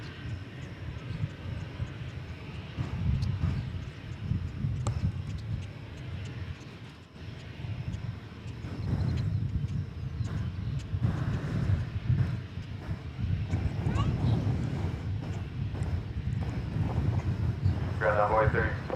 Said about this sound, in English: It's an Airbus A220-300. And going to Salt Lake City